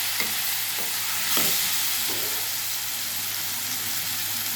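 Drumstick vegetable pieces soften in hot oil in a pan for a fish and tomato curry, making a steady, even hiss of frying with a few soft stirring bumps, close and unbroken, with no talking.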